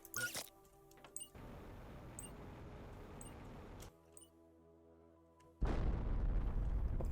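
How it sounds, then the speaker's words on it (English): A bomb goes off in the Planet Crafter video game: a sudden loud burst of noise cuts out, then a second, heavier blast rises and hangs on at full strength. Softer rumbling fills the gap between them. "Do your thing, bomb."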